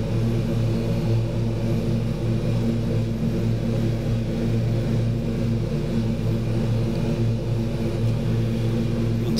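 Twin turboprop engines of a Super King Air B200 in a flight simulator drone steadily in flight, a dense, even hum with a low propeller throb that holds without a break.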